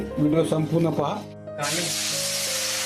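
Soaked moong dal batter fries in hot oil, a steady, bright sizzling hiss that takes over after a brief spoken phrase.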